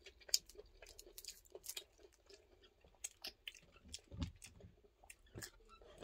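Someone chewing raw garlic up close, soft irregular crunches and wet mouth sounds at a low level, with no talking.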